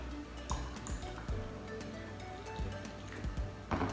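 Freshly pressed coffee from a French press is poured into a cup, giving a close liquid trickle with drips and small splashes and a few soft clunks of the pot and cup.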